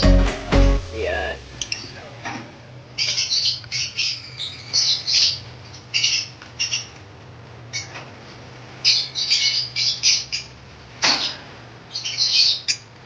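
A young chick squawks repeatedly while being lifted from its nest during bird breeding and fostering, with harsh, close calls in bursts throughout and faint noise between them.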